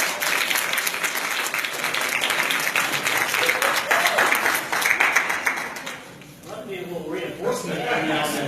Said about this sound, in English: I get a round of applause if you enjoyed the meeting.